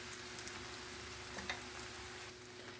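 Yufka with egg fries in a pan, giving a soft, steady, continuous sizzle with faint crackles, heard close and quiet with no voices.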